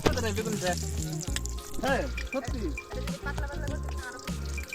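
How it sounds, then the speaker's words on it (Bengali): Chops bubbling and sizzling in hot oil at an outdoor picnic, a steady close frying hiss punctuated by pops, with several people talking loudly over it throughout. "এখন চপ ভাসছে"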